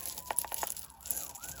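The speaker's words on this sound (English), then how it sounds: "ambulance passing" An ambulance siren passes outside, faint and distant, its wavering wail rising and falling for a moment over quiet room noise.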